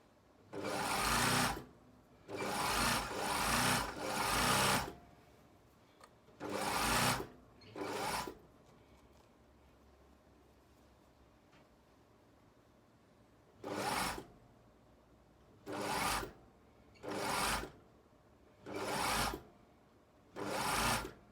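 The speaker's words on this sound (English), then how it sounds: "I'm just going to sew that whole U-shaped crutch curve" A sewing machine stitches the U-shaped crotch curve of flared trousers in repeated short bursts, each a second or two long, separated by quiet pauses, with a longer gap midway.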